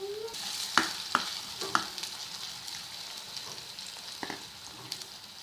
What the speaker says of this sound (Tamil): ஆனியன் நல்லா வதங்கட்டும்